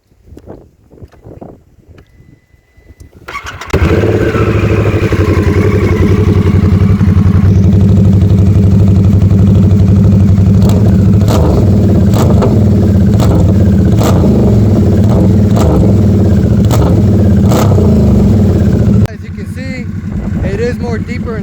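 A car's exhaust fitted with an O'Reilly's aftermarket exhaust tip starts up after a few quiet seconds, then holds a loud, steady, deep idle close to the microphone before the level drops near the end.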